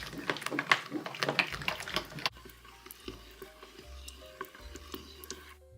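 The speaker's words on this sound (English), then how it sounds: "So I've been stirring for a while and it's not quite thick enough." Wallpaper paste mixed with water is stirred, giving wet, squelchy churning that is busy for about two seconds and then becomes quieter, softer stirring over a low hum.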